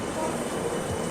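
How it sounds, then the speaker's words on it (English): A metro train in Kaohsiung rolls in with a steady, loud broadband rumble and hiss that holds for the whole moment, with faint rail noise underneath and no clear voices. "Here goes our train"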